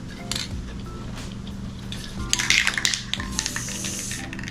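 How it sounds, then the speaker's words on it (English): An aerosol spray paint can hisses deep blue paint onto a newspaper-covered palette, in several short bursts and one longer spray, close and fairly loud, with faint rattling and tapping between them. "I will spray down on my palettes, my newspaper, some deep blue"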